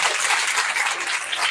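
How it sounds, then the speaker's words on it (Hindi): Audience applauding at a Shrimad Bhagavat Mahapuran katha gathering, a dense, steady wash of many hands clapping close and loud. "एक बार जोरदार तालियां उनके लिए"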